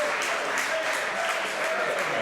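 A wrestling crowd at a tournament show claps steadily in a dense, sustained wash of applause, with a few louder bursts.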